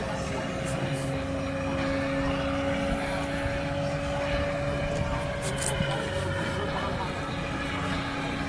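A radio-controlled T-28 model warbird flies just after takeoff at a Warbirds over the Valley event, its engine a steady, continuous drone held at a constant pitch throughout, fairly loud, with faint voices in the background.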